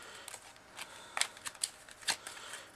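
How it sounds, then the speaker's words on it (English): Playing cards riffle and snap in a series of quick, close shuffling bursts, crisp and light, with short pauses between them. "And I'm going to go ahead and shuffle."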